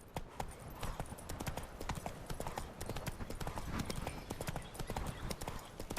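Roach, the horse in The Witcher III: Wild Hunt, trots at a steady pace with dense, loud clip-clop hoofbeats running for the whole stretch over a busy game background.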